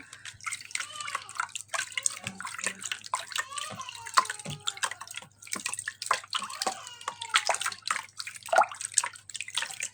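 Water splashes and drips in broken bursts during face washing at a bathroom sink, moderately close, with irregular rhythm and no talking over it.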